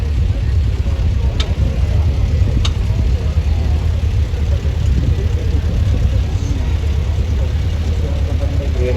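A vintage lorry engine rumbles steadily as it drives past in a parade of rigid classic lorries at a steam rally, a low continuous drone close by with a couple of brief clicks.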